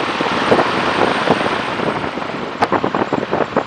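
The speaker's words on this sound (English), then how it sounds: "Right, off we go then." A de Havilland Tiger Moth biplane's engine rumbles while taxiing at Duxford, loud and close, with uneven pulsing and buffeting wind noise and no voices.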